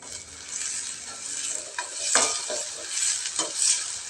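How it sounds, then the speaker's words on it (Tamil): Sliced onions with salt sautéing in a pan for potato poriyal, a steady close sizzle broken by a few louder scraping stirs of a spoon against the pan; no voices. "உப்பு சேர்த்து இந்த வெங்காயத்தை நல்லா வதக்கிக்கலாம்"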